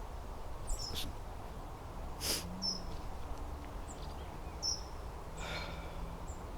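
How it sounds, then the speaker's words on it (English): Several short bird chirps and calls outdoors, scattered across the scene, fairly faint over a steady low background rumble. "Let me tell you something about these birds."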